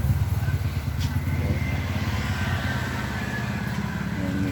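A tire changer machine's electric motor runs steadily close by, a continuous low mechanical hum with light rattling clatter and no break throughout.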